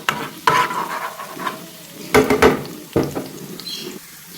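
Finely chopped garlic sizzling in hot oil with stirring and scraping sounds, a few louder clattering moments; close up, no voices.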